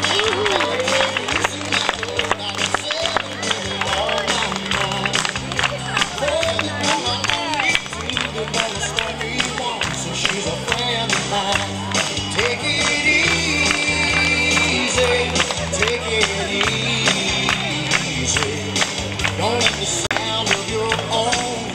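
An audience applauds at a youth horse-riding show, the clapping falling into a steady rhythm beneath loud music and crowd noise throughout.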